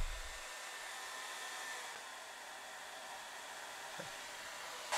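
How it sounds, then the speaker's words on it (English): A hair dryer runs steadily on high heat, powered through the 600-watt inverter of an EcoFlow River Pro portable power station; a broad, even whoosh holds throughout, with a brief change near the end. "Did you hear the hairdryer throttle down?"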